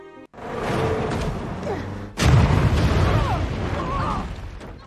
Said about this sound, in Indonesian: Untungnya, Mike bisa mengemudikan bus dengan cepat sehingga mereka selamat dari ledakan.